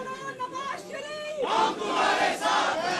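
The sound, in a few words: crowd chanting slogans at lawyers convention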